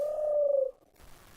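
A man whistles an imitation of a yellow-footed dove's call, one steady, loud, slightly falling tone that ends abruptly, followed by faint background noise.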